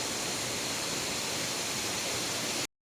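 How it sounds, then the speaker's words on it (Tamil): Steady broadband roar of a waterfall in a jungle during a hike, constant and close, running without a break until it cuts off just before the end. "பட் ஆனால் வாட்டர் ஃபால்ஸ் வந்து சூப்பர்"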